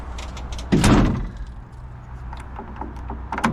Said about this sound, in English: close up the engine compartment